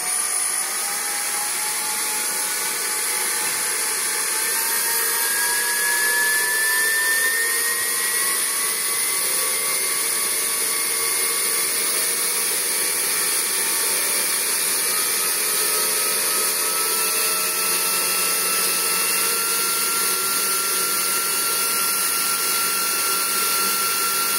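A compressor spins up toward 100 revolutions per second, giving a loud, steady whine whose tones climb in pitch over the first several seconds and then hold as a continuous mechanical hum.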